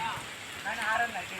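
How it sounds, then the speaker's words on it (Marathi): Steady monsoon rain in a Konkan village, a continuous soft hiss of drops on surfaces with a fairly even, moderate level throughout. "हा बघा या साईडला पूर्ण असा पाऊस उठला आहे आणि पाऊस कंटिन्यू पाऊस चालूच आहे."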